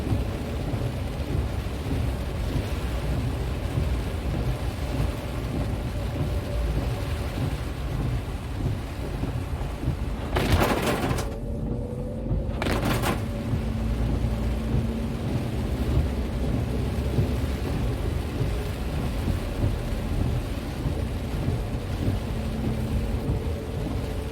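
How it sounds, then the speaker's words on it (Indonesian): Dense, steady downpour of heavy rain in Palembang, Indonesia, near the airport, hisses throughout, with a low rumble of thunder and a brief gap near the middle. "hujan"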